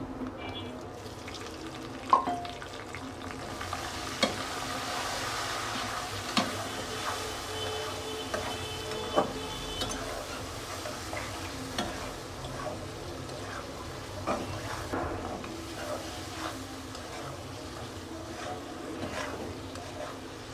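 Onions frying in hot oil in a wok, a steady close crackling sizzle running throughout with occasional clinks and stirring knocks, no talking.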